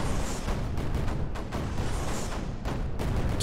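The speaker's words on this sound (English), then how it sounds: "Cannon." Cannon fire in Creeper World 4 sounds as a dense, loud rumbling barrage with repeated booming thuds, one after another, over a constant roar of game noise.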